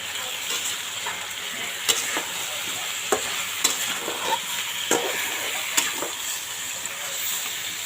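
Young bottle gourd frying in a pan for a curry, a continuous bright sizzle close by, with occasional spoon taps and scrapes spaced every second or so.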